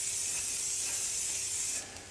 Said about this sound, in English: I'm just going to spray it with my trusty little olive oil spray.